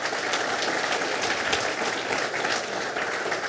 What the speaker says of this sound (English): how about a round of applause for all the volunteers from Weesport Speedway that are here helping us out tonight